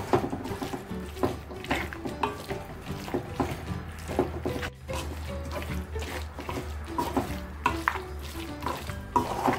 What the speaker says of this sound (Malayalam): ഈ കറിവേപ്പിലയൊന്ന് മിക്സ് ചെയ്ത് കൊടുത്തിട്ടുണ്ട്.